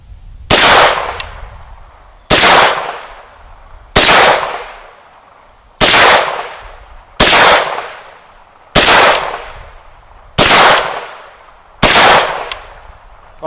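Eight sharp gunshots from an RN9 pistol fired at pumpkin and steel targets outdoors, evenly spaced about every one and a half seconds, each a loud crack with a short decaying tail, no talk.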